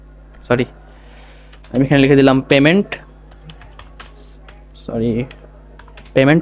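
Light clicks of a computer keyboard come through as code is typed for a C programming lesson, faint and scattered between bursts of someone speaking.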